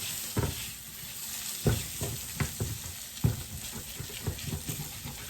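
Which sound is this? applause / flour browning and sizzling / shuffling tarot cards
flour browning and sizzling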